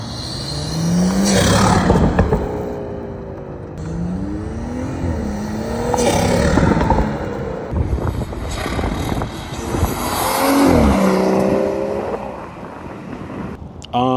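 Engine and exhaust of a 2018 BMW 440i xDrive with a B58 turbo engine, heard from outside: three loud revving passes that climb and fall in pitch, each surging and then fading, with a raspy exhaust tone.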